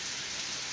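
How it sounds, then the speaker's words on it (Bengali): Heavy rain pours steadily in a rural town in Bangladesh, a dense, even wash of falling water with no breaks or voices. "প্রচণ্ড বৃষ্টি হচ্ছে আমাদের সরিষাবাড়িতে"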